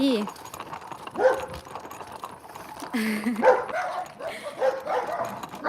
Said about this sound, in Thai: เห่าคนงามเหรอ